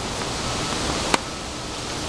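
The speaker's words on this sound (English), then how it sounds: "Too windy." Steady, rushing wind buffets the microphone throughout at a high school soccer practice, with one brief sharp click partway through.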